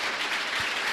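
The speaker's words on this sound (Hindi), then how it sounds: "एक बार सभी लोग तालियां बजाएं।" An audience at a Jain religious discourse gathering applauds in a brief, steady burst of dense clapping, with no speech over it.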